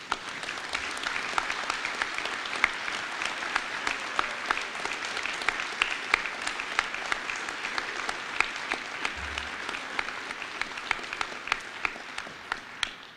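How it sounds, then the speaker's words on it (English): A crowd applauds young inductees at a National Honor Society junior induction, producing thick, steady clapping that holds at an even level for the whole stretch, with no talk over it. "Let us now offer these young inductees a round of applause."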